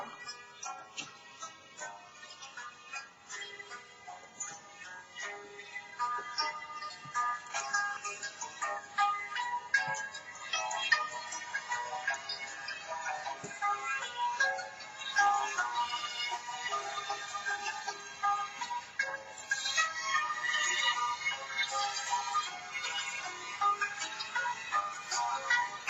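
A Kung Fu Panda themed phone ringtone plays a steady, busy melody with bright, dense tones at moderate volume throughout, with no talk over it.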